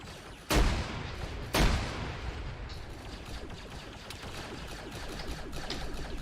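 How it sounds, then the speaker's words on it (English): Mortar fire in a military video game: two heavy, sharp booms about a second apart, followed by a continuous rumbling battle ambience. "these mortars to our northwest"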